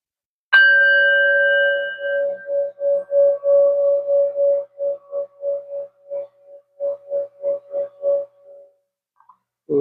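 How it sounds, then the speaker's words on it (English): A gong is struck once, a bright ringing tone that decays slowly into a long, pulsing shimmer with a wavering beat, fading out over several seconds before a small knock at the end. "So I'm going to bang the gong in 3,"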